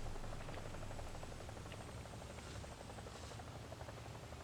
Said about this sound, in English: See if we can't just light up this helicopter real quick.